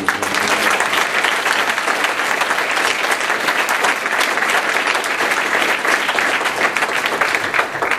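Sustained, dense applause from an engineering event audience, loud and steady throughout with no break, many hands clapping close together.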